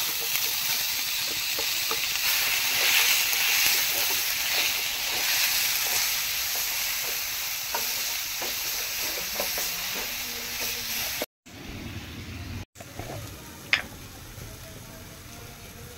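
A masala paste with dry chillies and cumin fries in hot oil in a village kitchen, giving a soft, steady hiss. The sound breaks off twice near the end, followed by a faint clatter of utensils and no speech.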